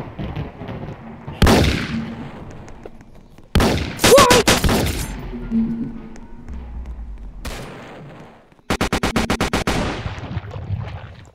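An AK-47 fires in a Roblox game as sharp, loud bursts separated by quiet gaps, ending in a rapid string of evenly spaced shots, with light scraping noises in between.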